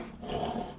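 A dog growls in a low, rumbling, continuous tone, near and moderately loud, with no one talking.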